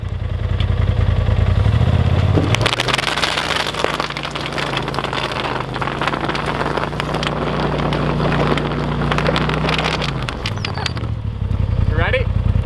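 A Polaris RZR Turbo S side-by-side fitted with bubble-wrap tires drones loudly at a steady engine pitch for several seconds before dropping off, with voices and clattering around it.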